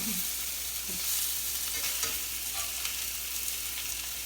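Salmon fillets fry in a pan with a steady, fairly quiet sizzle, broken by a few soft stirring and flipping knocks, alone with no talk.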